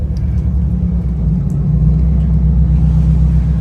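Both engines of a 70-foot Viking yacht run in forward gear, giving a loud, steady, low rumble that continues without a break.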